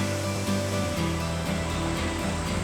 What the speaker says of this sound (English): You can hear the sound of the water coming over